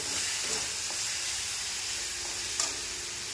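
Tomatoes with spices frying in a pan for fish curry, a steady loud sizzle and hiss throughout with a couple of brief stirring clinks.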